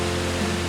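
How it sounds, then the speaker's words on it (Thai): A natural waterfall stream flows under a road bridge in a rural Vietnamese village, a steady close rushing hiss of water with a low hum beneath. "ตรงนั้นก็เป็นน้ำตกธรรมชาตินะครับ"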